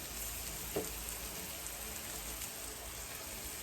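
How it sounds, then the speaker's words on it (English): Soft, steady sizzling of carrot, pepper and onion in a hot pan, a faint crackling hiss with one small clack of a utensil early on. "And you can hear it sizzling, so it is hot."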